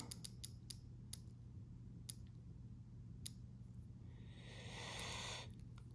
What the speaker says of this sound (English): look at the bezel action. Sounds pretty good.